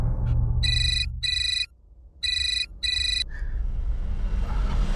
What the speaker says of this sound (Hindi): एक फोन है।